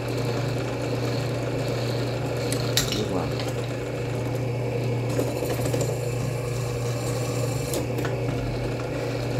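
A carbide-tipped drill bit boring into a hardened steel file, a steady mechanical hum with a strong low drone running throughout, broken by a few sharp metallic scrapes and clicks, loud and close with no talk.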